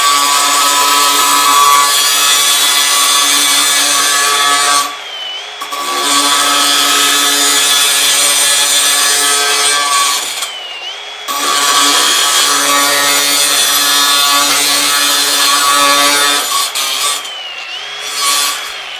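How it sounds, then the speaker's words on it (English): A diamond cutting wheel slices 1 inch steel tubing with an 1/8 inch wall, giving a loud, harsh, high-pitched grinding whine in three long cuts separated by short pauses as the wheel spins down. "So we're going to make a couple of cuts on this."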